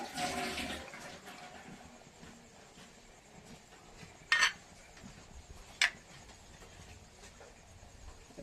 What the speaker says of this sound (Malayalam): ഇച്ചിരി വെള്ളവും കൂടെ നമുക്ക് ചേർക്കണം